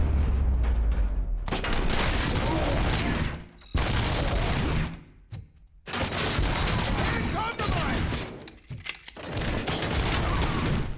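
Heavy gunfire and deflecting bullets in the video game Robocop Rogue City, with dense bursts of automatic fire broken by brief lulls, loud and close throughout with booming impacts.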